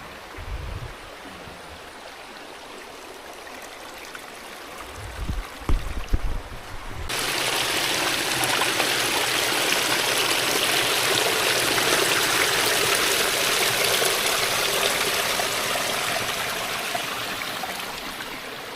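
At Mallankuzhi waterfalls, the falling water makes a steady, broad rushing sound. It starts quieter with a few low knocks, then swells after several seconds into a loud, continuous roar nearby.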